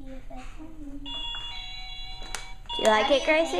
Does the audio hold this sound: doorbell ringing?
yes